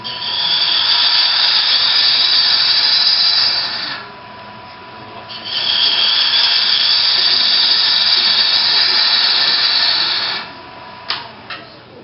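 A wood lathe whines steadily while turning, cuts off briefly, spins back up for several seconds, then stops again with a few small knocks at the end; close and loud, with no talking.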